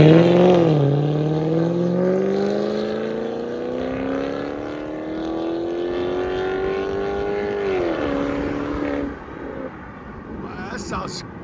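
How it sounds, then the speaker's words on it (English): A BMW 550 V8 with true dual, fully straight-piped exhaust and quad tips revs up loudly in one long climbing pull, then drops back, close and raw, followed by a brief pop. "BMW 550, true dual, fully straight piped with the Tommy quad tips out the back."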